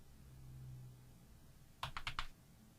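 Four quick, crisp keystrokes on a computer keyboard enter numbers, close and distinct against a quiet room hum.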